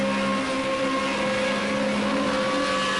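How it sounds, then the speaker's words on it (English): Formula Renault race car engine at Silverstone GP in the Project Cars video game, a loud, steady high-pitched whine held flat out without breaks for the whole stretch. "Oh, you can really hear the engine noise through there."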